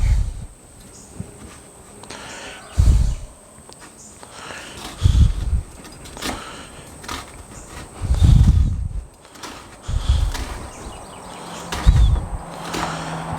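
Knife slicing through a peeled, halved onion on a cutting board while preparing a Cajun pork roast, giving several separate dull chopping thuds spread irregularly across the clip, close and fairly loud.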